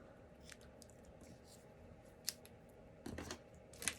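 Scissors trimming ribbon on a handmade card, a few faint, quiet snips spaced apart with a small cluster of cuts near the end.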